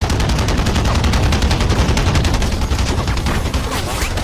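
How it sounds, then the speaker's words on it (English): Dense, rapid machine gun fire from a Rambo action film rattles continuously in loud overlapping bursts, a relentless close barrage with no pause. "The villagers ran outside in panic, but what awaited them was a burst of machine gun fire."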